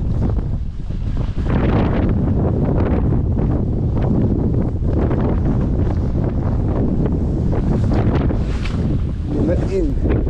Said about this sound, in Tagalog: Lakas ng hangin na.